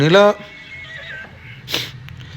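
A horse at a local horse race gives one loud, quavering neigh at the start, then a person talks while faint background noise continues.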